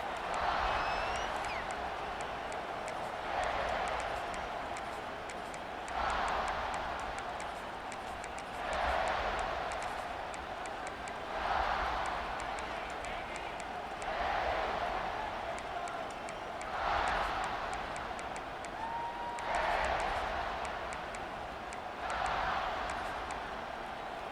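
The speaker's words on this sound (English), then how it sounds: "This crowd ready to make its presence known" Crowd noise at a cartoon basketball game: a steady murmuring roar that swells in regular waves every few seconds, moderately loud and continuous throughout.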